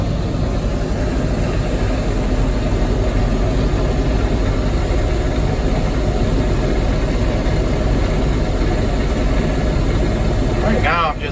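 Tractor engine idling at about 700 RPM in eighth road gear on flat pavement, a steady loud low rumble throughout with no pauses, ending in a brief higher whine near the close.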